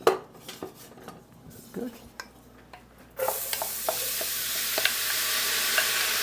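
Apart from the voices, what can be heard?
sauteing onions in oil in a pot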